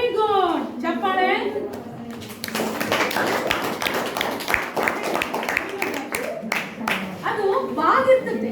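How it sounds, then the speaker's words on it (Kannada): A classroom of students clapping together for a classmate, a quick burst of brisk, rhythmic claps lasting several seconds, with a teacher and children talking before and during it. "ವೆರಿ ಗುಡ್, ಚಪ್ಪಾಳೆ"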